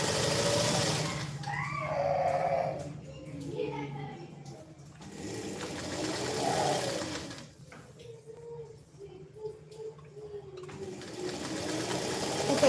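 A sewing machine stitching the sleeve seam of a prince-cut blouse, its motor whirring close in long runs broken by short pauses, with someone talking over it.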